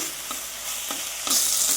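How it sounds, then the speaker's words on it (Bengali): A paneer curry spice paste made with cumin powder, cumin seeds and coriander powder fries in a pan. Close, steady sizzling runs throughout, with a few brief scraping stirs and a louder burst near the end. "পেস্টের মধ্যে জিরের গুঁড়োটা দিয়েছিলাম, জিরাটা দিয়েছিলাম, আর ধনে গুঁড়োটা দিয়ে দিলাম। এখন দিয়ে আমি এটা একটু ভেজে নিব"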